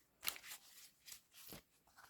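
Rune reading cards are shuffled quickly by hand, producing a few soft, brief papery riffles and scuffs close up and fairly quiet, with no talking.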